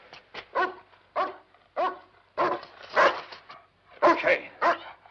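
A dog in a 1970s horror film setting barks repeatedly in short, loud bursts with irregular spacing, close by, with little else underneath.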